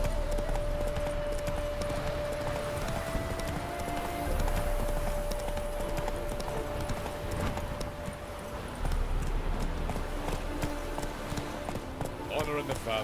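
Hooves of the horse Roach in The Witcher 3 pound in a continuous rapid gallop of clip-clop beats, with game music and a voice speaking over the running throughout.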